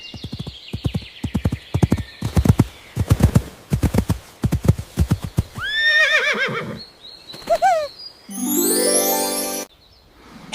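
A horse's hooves clip-clop in quick, sharp rhythmic bursts, broken up by several loud whinnies and neighs, with a rising chime-like sweep near the end and no speech.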